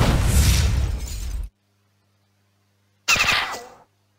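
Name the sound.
tank shell firing in the video game Battle Nations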